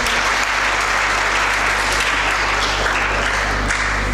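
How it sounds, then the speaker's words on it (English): A large audience at an English speech competition applauds continuously, a dense, loud, even wash of clapping with no pauses. "Everyone, please give them a huge round of applause."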